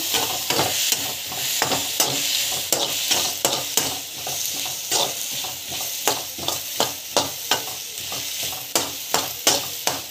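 Ingredients sauté in a hot pan with a constant bright sizzle, while quick rhythmic stirring strokes scrape the pan again and again, growing more regular and insistent toward the end, with no talking.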